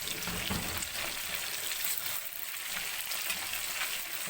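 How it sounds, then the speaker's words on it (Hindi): Fish frying in hot oil for a homemade curry, a steady dense crackling sizzle that stays close and fairly even throughout, with faint stirring underneath and no voices. "तो देखें माशाल्लाह कितनी अच्छी है, बहुत अच्छी फ्राई हो रही है।"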